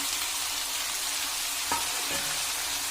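Bitter gourd and potatoes frying in hot oil give a steady, close sizzle from start to finish, with a couple of soft stirring knocks near the middle.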